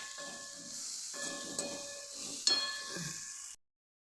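Cauliflower sautés in oil in a pan, giving a steady soft hiss and sizzle that swells in a few waves with a brief clatter, then stops abruptly into silence.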